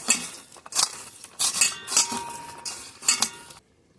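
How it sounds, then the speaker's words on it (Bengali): Onion being mixed with salt and turmeric in a bowl: a series of close, scraping clinks and stirring strokes of utensil against dish, irregular bursts about every half second, ending abruptly in silence. "পেঁয়াজটা এখন আমি লবণ হলুদের সঙ্গে ভালোভাবে মাখিয়ে নেব"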